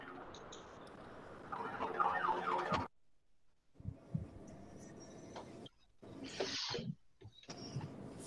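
A siren passes outside during an online Teams workshop session, rising and falling through the room in bursts between quieter gaps, moderately faint and distant, with no talk over it.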